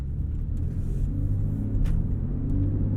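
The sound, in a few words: sports car engine induction noise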